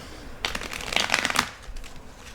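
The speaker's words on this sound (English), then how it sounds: "I'm going to shuffle." A quick riffle of cards being shuffled, a dense burst of crisp flutters lasting about a second, followed by a few softer taps.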